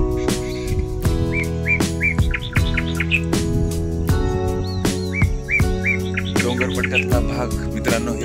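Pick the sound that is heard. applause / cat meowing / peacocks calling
peacocks calling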